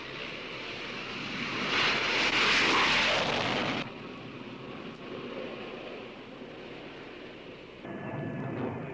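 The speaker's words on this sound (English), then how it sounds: "After refueling, the planes move off in close formation into North Vietnam." Military planes roar past in close formation, a loud, broad engine rush that swells, then drops to a steady drone and surges again near the end.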